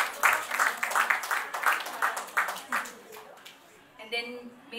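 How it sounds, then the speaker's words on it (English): Audience applause at a certificate ceremony during a workplace health forum, a moderate clatter of clapping that thins and fades toward the end, with a voice briefly speaking over it. "a round of applause to Miss Maria Charisse Magallanes."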